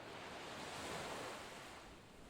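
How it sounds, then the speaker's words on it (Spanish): Ocean waves washing onto the shore in a constant soft roar with a hint of wind, faint and steady, swelling briefly then easing. "el sonido constante de las olas"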